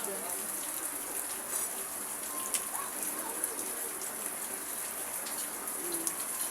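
Rain falls steadily outdoors, a soft, continuous hiss of drops at a moderate distance with faint scattered patters and no clear speech.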